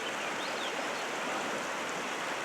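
Creek water flowing steadily along a mountain approach in Banff National Park, a continuous broadband rush and babble, close and fairly loud, with no voices.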